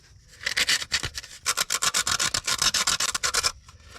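Sandpaper scuffing a corroded golf cart battery terminal, a close, loud run of quick rasping strokes in an even back-and-forth rhythm with brief pauses, no talking.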